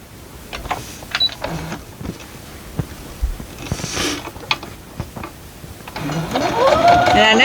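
A sewing machine stitches quilt block pieces together, with light mechanical clicks and handling noises followed by a louder, rising whir as the machine runs at the end.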